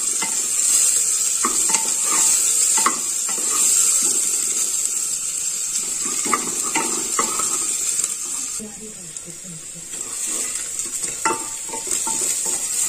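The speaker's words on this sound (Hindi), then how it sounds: "प्याज हमारी भुन गई है" Finely chopped onions frying in a pan, a steady sizzle with intermittent stirring scrapes and clinks of a utensil against the pan, close and continuous throughout.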